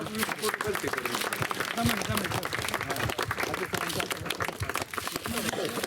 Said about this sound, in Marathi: सर्वांना विनंती करतो टाळ्या वाजवा